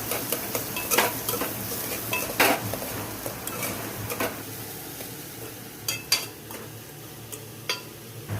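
Onions with cumin and cloves fry in oil while a spoon stirs them, giving a soft steady sizzle broken by sharp metallic scrapes and clinks against the pot at irregular intervals, with no voices.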